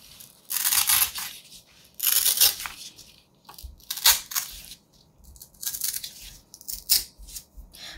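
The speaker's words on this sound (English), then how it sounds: "you can carefully rip it in half like this" A sheet of 8.5 by 11 paper is torn in half along a fold, giving several short, sharp ripping bursts broken by quiet gaps, close and fairly soft.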